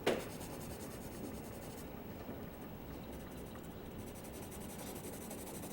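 Graphite pencil shading across paper, with pressure varied to change tone, makes a steady, close, dry scratching rub that continues without pause and without talk.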